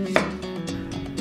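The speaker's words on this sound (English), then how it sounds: "Then chop an onion and halve some garlic cloves." A knife chops an onion on a cutting board in a home kitchen, a few close, crisp cuts with one sharper knock near the start.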